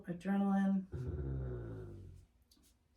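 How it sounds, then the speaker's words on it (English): A dog indoors gives a loud, close, sustained whine that turns into a lower growl lasting about two seconds. A person starts talking over the end of it. "Sorry, that was my dog."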